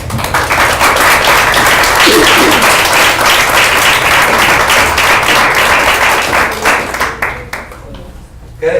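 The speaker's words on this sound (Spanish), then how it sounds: "Dale un aplauso a Dios." Loud, sustained applause from a church congregation during a Spanish-language sermon, a thick wash of many hands clapping that tapers off near the end, leaving a few stray claps.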